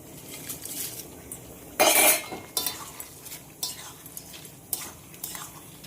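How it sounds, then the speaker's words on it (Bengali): A cooked dish with fried papad is stirred in a metal pan, a utensil scraping and clinking against the pan in irregular strokes, with one loud rattling burst and a faint sizzle underneath, close by and without talk. "একটু নেড়ে চেড়ে নামিয়ে দেবো"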